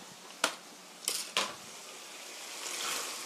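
Chicken with tomatoes and curry powder being stir-fried in a pan, with three distinct clinks of a utensil against the pan early on. A soft sizzle hums steadily throughout and swells slightly near the end.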